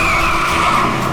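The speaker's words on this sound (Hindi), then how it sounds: "गाड़ी की ब्रेक क्यों नहीं लग रही?" Car skidding after its brakes fail, a loud continuous tire squeal and screech held steady throughout, close and dominant with no voices.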